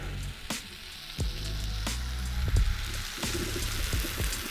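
Steaks sizzle steadily in a pan at an overland campsite in Utah, a continuous crackling hiss with a few sharper pops and clinks of handling up close, and no talking.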